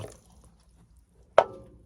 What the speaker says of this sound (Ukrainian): Я беру ось такий піддон, наливаю води на дно.